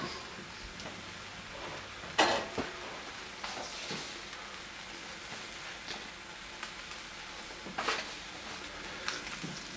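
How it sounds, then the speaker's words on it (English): Olive oil heating in a hot pan for a bison bolognese, a soft continuous frying crackle with a few louder spits and bursts, quiet and close, no voices. "I'm going to add the rest of our olive oil in"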